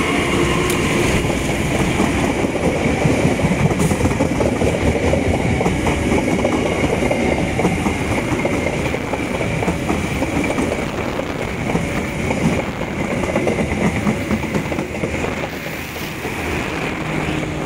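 Garut commuter train on the Cibatu–Padalarang route rolling past close by on its approach to Bandung station, a loud steady rumble with rail clatter that runs unbroken through the whole stretch.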